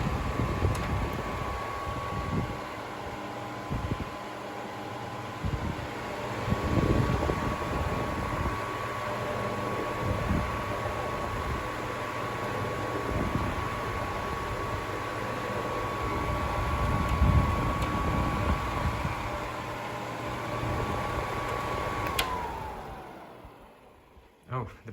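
A Seabreeze Cool Sweep fan runs steadily with a dry-bearing whir, a broadband airy drone holding a faint whining tone, continuous and close for about twenty seconds before switching off near the end.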